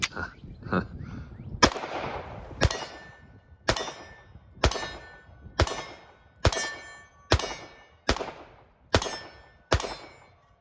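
A Shadow Systems CR920P pistol firing at an outdoor range: about nine sharp, loud shots spaced roughly a second apart, each with a metallic ring and short decay, after some faint handling noise at the start.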